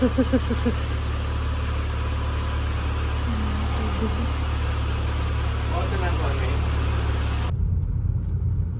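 Car driving at night, a steady low engine and road hum inside the cabin, with someone talking over it and a voice in the background, until it cuts off abruptly near the end.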